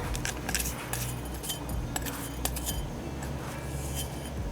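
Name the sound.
back of a spoon flattening crust in a pan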